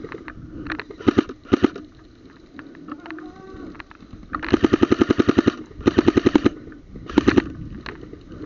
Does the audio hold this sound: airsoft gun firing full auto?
yes